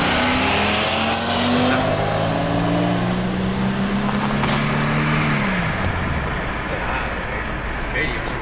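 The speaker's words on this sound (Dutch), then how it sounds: "Komt de auto aan." A car approaches from the distance and drives past at a cruising event featuring Volvo and Mercedes cars, the engine note loud and rising then falling away, with people talking nearby.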